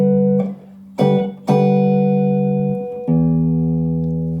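Electric guitar strumming a few sustained minor 9th chord voicings with wide open spacing, each chord ringing clearly on its own before the next is struck.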